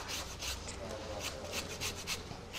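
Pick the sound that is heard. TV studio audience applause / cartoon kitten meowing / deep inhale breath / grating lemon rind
grating lemon rind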